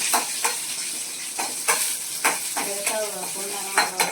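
Cashews roasting in ghee for a roasted gram halwa crackle and sizzle up close, broken by regular scraping stirs and light metal clinks of a spoon against the pan, with no voices.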